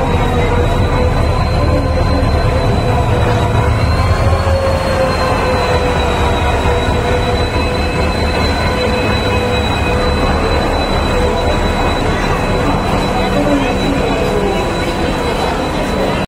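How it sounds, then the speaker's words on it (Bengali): Train rolling into a station platform amid a crowd, a steady loud rumble of wagons with sustained high wheel squeal running throughout, no clear talk over it. "আমাদের ট্রেন এসে গেছে, এখন প্ল্যাটফর্মে ঢুকছে।"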